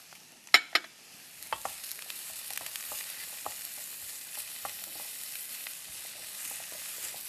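Onions and carrots stir-fried in a pan for a soy-glazed fish cake side dish, a steady close sizzle with a couple of sharp spatula knocks at the start and light scraping stirs throughout.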